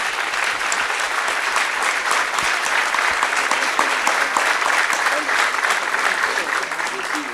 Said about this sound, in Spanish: lo que le pido es un gran aplauso para nuestros invitados